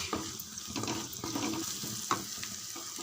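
Spices sautéing for egg masala in a pan, a soft steady sizzle with faint scraping stirs and small clinks, fairly quiet and without talk.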